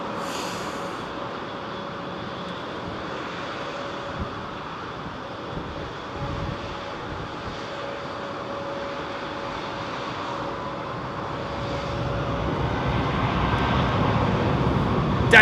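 A British Airways Airbus A380 on flight BA209 to Miami taxis out at London Heathrow, a steady distant jet engine rumble and whine that swells gradually toward the end, with no talk over it.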